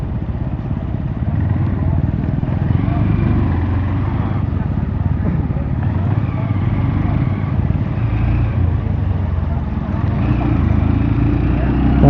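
A Yamaha R15 version 4 motorcycle ridden at night, its engine droning steadily and fairly loud throughout, with a voice talking over the ride.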